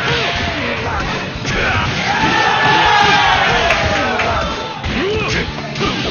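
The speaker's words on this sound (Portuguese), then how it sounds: "E a torcida agora tá ficando forte pelo Kleber." Tournament crowd at a King of Fighters XIII top-eight final in Brazil, loud close yelling and whooping swelling into a sustained roar, with excited shouts rising and falling and voices talking through it.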